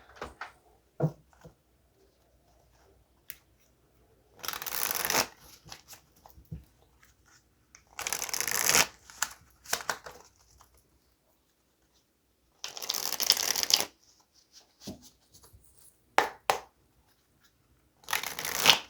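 A tarot deck being shuffled up close, in several distinct riffling bursts of a second or so each, separated by quiet pauses and light card handling.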